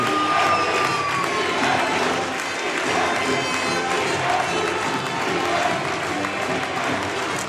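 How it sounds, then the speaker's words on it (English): The Jamestown home crowd cheers and applauds for the Trojans at a basketball game, a loud continuous wash of clapping and shouts filling the arena without letup. "Yeah, the Jamestown crowd, that's not insignificant. They're cheering on the Trojans."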